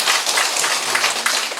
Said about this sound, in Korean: 그럼 박수 한번 치주세요.